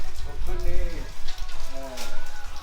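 Steady rain pours down in a village, a continuous hiss of drops on surfaces with people talking over it.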